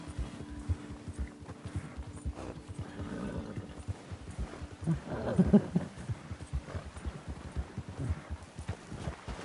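An exhausted horse in Red Dead Redemption 2 Online gives a steady run of clip-clop hoofbeats with snorts and breathy whinny-like sounds, moderately close, rising briefly midway.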